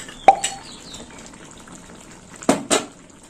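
Poppy seed paste going into a hot cooking pan for a drumstick-stem dish: a soft plop followed by brief sizzling, then two quick clattery wet splats from a utensil, fairly close and with no talking.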